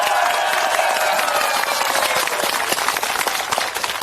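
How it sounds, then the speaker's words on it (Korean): A crowd at a political rally gives sustained, loud applause that fills the space with dense clapping and faint cheers. It holds steady throughout with no clear speech on top. "힘찬 박수 부탁드립니다"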